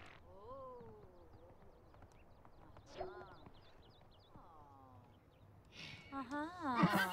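Horse hooves clip-clop in The Sims 4 ranch life, soft and fairly faint beneath whinnies and other animal calls that grow louder toward the end, with a voice talking over parts.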